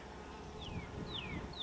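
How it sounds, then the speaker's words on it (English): Honey bees crawl and work across a hive frame holding brood, nectar and pollen, giving a soft steady buzzing hum with a few rising and falling wingbeat whines passing close by. "A lot of good bees there moving around working."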